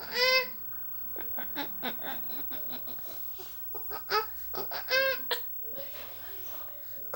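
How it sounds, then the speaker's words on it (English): Chicken clucking in a kids' farm animal sound game: a run of short, bright, excited clucks and squawks in irregular bursts, fairly close and clear, with no talking over it. "That's right, it's a chicken."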